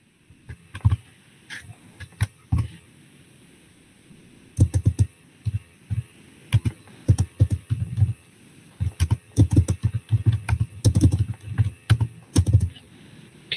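Clicky bursts of typing on a computer keyboard while entering Python code, coming in irregular clusters of quick keystrokes with short pauses between them, close and fairly loud, with no talking.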